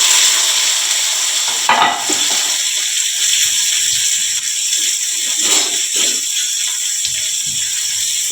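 Onions frying in a pan with mustard seeds and cumin, a steady loud sizzle with occasional stirring scrapes, close up and without talk.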